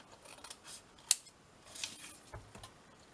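Scissors snipping through scrap paper during a craft project, a few quiet close snips with one sharp distinct cut in the middle, alone with no talking.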